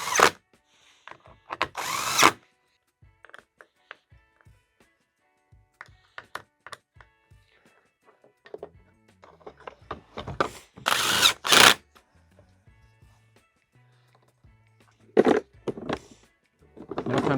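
Screws being tightened by hand on an Arctic Cat snowmobile gauge repair, heard as scattered small clicks and taps with a few louder bursts of tool noise, close by and without talk.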